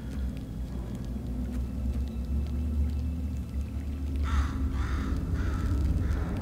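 Bird calls in the Portal 2 video game, a series of harsh caw-like cries starting a few seconds in, repeated in short bursts over a constant low rumbling background hum.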